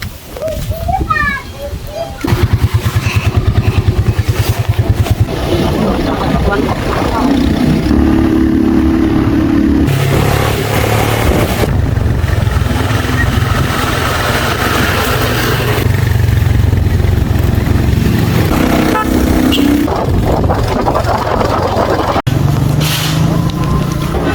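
A motorcycle engine drones and revs up close while people, including children, chat over the running motor.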